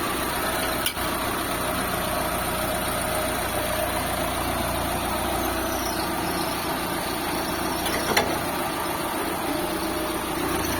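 A Mitsubishi Lancer with a replacement engine idles smoothly at close range, a loud, even, unbroken hum with only a couple of faint clicks over about eleven seconds.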